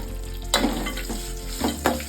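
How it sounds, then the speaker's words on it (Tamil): Ginger and about ten garlic cloves sizzling in hot oil in a pan for mint chutney, a steady close fry broken by sharp scrapes of stirring. "இப்ப நம்ம பூண்டு பல் சேர்த்துக்கலாம். ஒரு 10 பூண்டு பல்."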